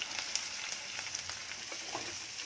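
Chopped onion hits hot oil already holding chopped ginger, garlic and green chili, giving a steady close sizzle with faint crackles and no voices.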